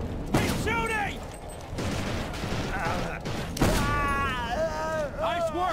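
Gunfire from the video game Inversion crackles in a couple of sharp bursts beneath a voice talking over much of the scene.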